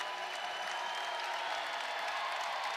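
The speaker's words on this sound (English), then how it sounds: "Wes Moore is going to get his seniors off the floor with a standing O from the Reynolds Coliseum" A home crowd at Reynolds Coliseum gives a standing ovation during an NC State Wolfpack women's basketball game against Syracuse: dense, sustained applause and cheering fills the arena evenly throughout.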